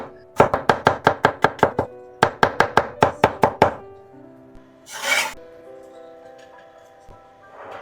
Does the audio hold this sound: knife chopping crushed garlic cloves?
yes